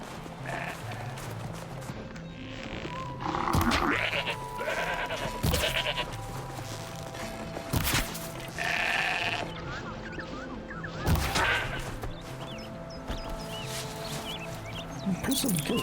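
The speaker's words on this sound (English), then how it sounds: "Impressive goat." A goat bleats repeatedly in the video game Horizon Zero Dawn, several wavering calls spread through the scene over low background ambience and other faint animal sounds.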